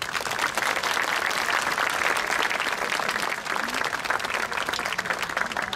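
A concert audience in Poznań applauds continuously, a dense and even wash of many hands clapping that holds steady for several seconds with no break.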